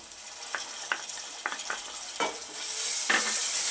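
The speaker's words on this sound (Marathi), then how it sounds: "टोमॅटो सुद्धा आपण एक दोन मिनिटासाठी छान असा परतून घेणार आहोत" Tomato sautéing with onions in a pan for a dry sprouted moth bean curry, a continuous sizzle punctuated by several sharp spoon scrapes and stirs, growing slightly louder toward the end.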